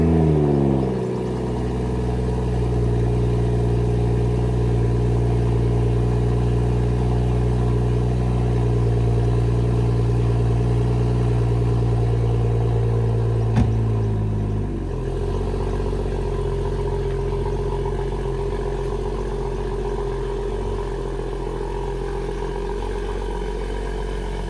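A BMW M240i engine on a cold start, firing up with a loud rev then settling into a high, steady fast idle that gradually drops lower, heard close and alone.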